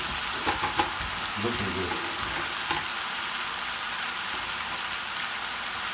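Scotch fillet beef stir frying in a hot pan gives a loud, continuous sizzle with occasional stirring clatter near the start, and a voice speaks briefly over it.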